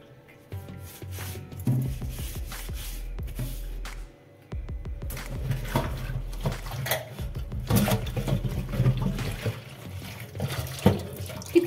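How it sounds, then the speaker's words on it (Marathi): Dirty water runs and drains off while an old bread basket is washed, with close splashing and flowing water mixed with rubbing and scrubbing, steady and fairly loud throughout. "किती घाण पाणी निघलं बघा."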